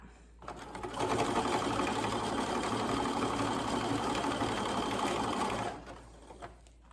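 A sewing machine stitches an elastic hem as fabric is guided through by hand, running in one fast, continuous whirring burst of about five seconds before stopping, close and clear.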